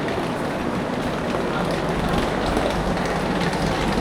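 Pune–Kanyakumari Express standing at a railway platform, a steady, dense rumble and hiss of idling train and station bustle filling the whole moment without clear speech.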